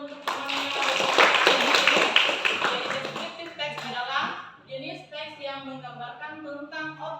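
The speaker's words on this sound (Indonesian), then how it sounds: "Ya, tepuk tangan untuk temannya." Classmates in a classroom clap their hands together for a friend, a burst of fairly close clapping for a few seconds that fades as a teacher's voice takes over.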